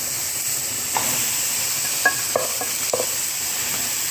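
Chicken frying dry with garlic and onion in a pan without cooking oil, a soft steady sizzle and hiss with a few light stirring clicks and taps, no talking.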